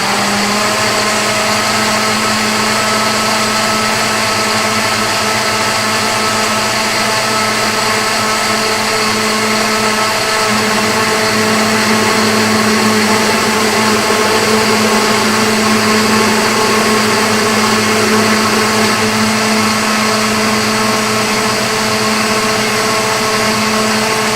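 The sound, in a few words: blender blending tomato soup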